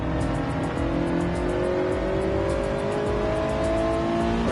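A Toyota 86 in a racing video game revs hard toward about 8,000 RPM, a steady, loud engine drone with rising pitch that holds throughout and carries faint background track noise.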